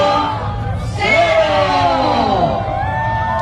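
A big crowd cheers, whoops and shouts as a large bonfire is lit at the Nuevo Laredo Grill Fest 2019, a loud, swelling roar of many voices close by, with a voice over a loudspeaker mixed in.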